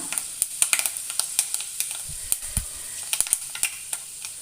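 Fenugreek seeds crackling in hot coconut oil in a pan for Kerala fish curry, with sharp, irregular pops and sputters over a soft sizzle, close and loud.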